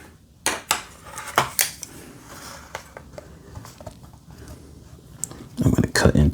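A not very sharp knife cutting into the plastic blister packaging of a Hot Wheels Premium 2008 Mercedes-Benz CLK63 AMG Black Series toy car, with sharp close crackling stabs and scrapes, a few isolated then a dense burst at the end, while someone talks.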